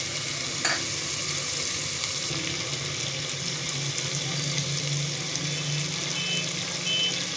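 Spiced masala with chili and turmeric sizzling steadily in a hot pan after a splash of water is sprinkled on, a bright continuous hiss that stays loud throughout.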